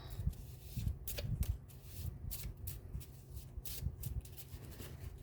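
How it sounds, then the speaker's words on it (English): A deck of cards is shuffled close up: quick riffling bursts and soft flutters repeat in rapid succession, fairly quiet and with no talk. "Actually, I'm going to shuffle them up now."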